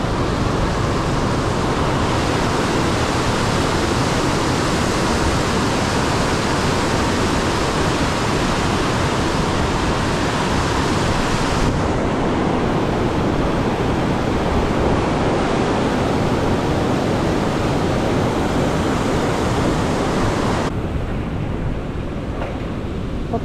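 Water rushes through a couple of open gates of a nearly full irrigation tank in Puttalam, Sri Lanka, a loud, continuous broadband roar that holds steady throughout, with no voices.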